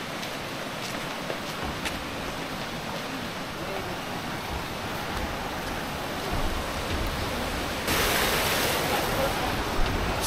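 Rushing water of the Siruvani waterfall near Coimbatore, a continuous broadband roar that swells louder toward the end, with wind buffeting the microphone.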